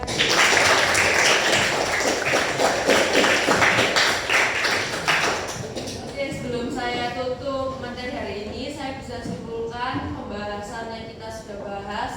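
Classroom applause for a student's presentation at a vocational high school, a dense burst of clapping for about five seconds that then fades out as music and voices take over.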